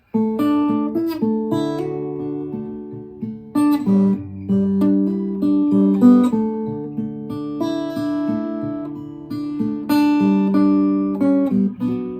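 Plucked acoustic guitar in drop D tuning playing a fingerpicked arrangement of "The Water Is Wide", with a low bass line under melody notes, steady and close, with no voices.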